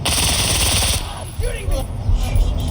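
Rapid automatic gunfire rattles in a video game, a dense burst of shots at close range that carries through the clip alongside a talking voice.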